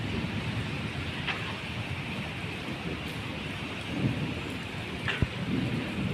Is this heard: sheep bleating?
no